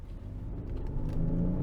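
Genesis GV80 with a 3.5-liter twin-turbo V6 pulling away in sport mode, a steady low engine rumble that swells as it accelerates, heard from inside the cabin with no talk.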